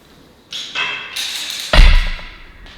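Arrow striking a blank archery bale during practice, a single sharp thud landing heavily after a light rustle and tap of handling, close and alone with no talk.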